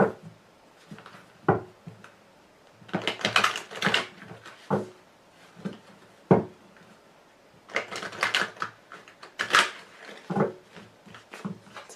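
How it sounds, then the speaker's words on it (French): Tarot cards are shuffled by hand in short rustling, clicking bursts with quiet pauses between, close up and fairly soft, and no one speaks. "On va tout de suite recouvrir le jeu."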